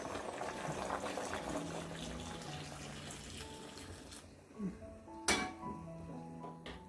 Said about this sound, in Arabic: نجيو بعدا نزيدو الماء، غنزيدو دابا الماء في البرمه